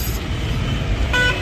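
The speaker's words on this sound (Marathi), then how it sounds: "तसं मुंबईचं ट्रॅफिक जरा जास्त दिसतं" Busy Mumbai street traffic with engines droning close by, and a car horn toots briefly near the end.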